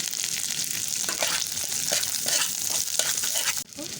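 Ginger and cumin powder frying in a pan with a steady, close, loud sizzle and crackle, with a few brief stirring scrapes and no talk.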